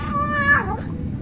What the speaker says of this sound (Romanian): Cineva a venit cu pisicuța!